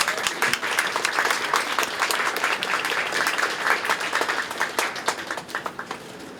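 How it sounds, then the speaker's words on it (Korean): An audience at a memorial hall service applauds warmly to welcome a speaker. Dense, loud clapping continues for several seconds, then thins out into scattered individual claps at the end. "우리 박성교 사님 나오실 때는 뜨겁게 박수로 맞이해 주시기 바랍니다"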